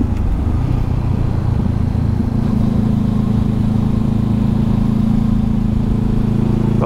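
A Honda CB500F motorcycle accelerates, its engine a loud, close, steady drone that climbs in pitch through the clip.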